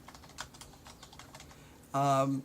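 Light keystrokes on a computer keyboard tap out a quick irregular run at low volume, then a short loud buzzy electronic tone cuts in near the end.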